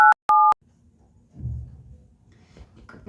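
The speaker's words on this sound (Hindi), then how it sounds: "राधिका ने अपने दोस्त अर्जुन को फोन लगाया।" Two short electronic phone tones beep in quick succession, then give way to a quiet low rumble.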